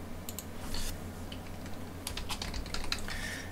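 Quiet, close tapping on a computer keyboard as a payroll schedule name is typed: a few quick keystrokes, a short pause, then a denser burst of clicks near the end.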